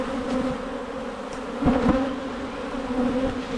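Honey bees buzz around an opened hive during early spring colony checks, a close, steady droning hum with individual bees zipping past the ear now and then.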